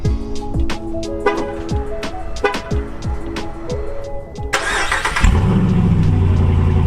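A Ram 2500 truck engine with its exhaust system removed cranks with rhythmic starter clunks, then roars to life with a loud, raw, unmuffled rumble that keeps running steadily.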